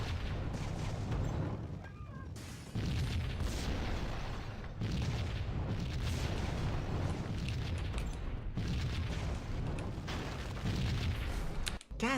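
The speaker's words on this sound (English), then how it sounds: "Where are those explosions coming from?" Repeated booming explosions in Max Payne Remastered, rumbling and thudding one after another through a continuous wash of loud action noise, ending in a sharp burst.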